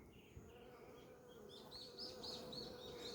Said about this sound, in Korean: 벌써 검은등 말벌이 벌써 사냥으로 다녀요.